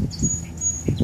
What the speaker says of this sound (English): Beautiful birds chirping.